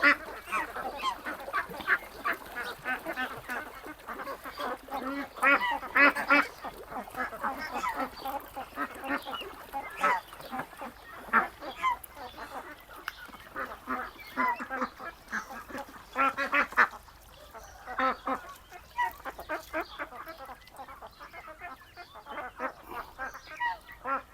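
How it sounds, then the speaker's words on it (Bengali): A flock of young ducks quacks continuously while bathing in a farm pond, many overlapping nasal calls close by, with a brief quieter lull before the chatter resumes. "আমরা হাঁসগুলোকে আস্তে আস্তে আজকে পুকুরে গোসল করার জন্য সবগুলোকে নেমে দিয়েছি"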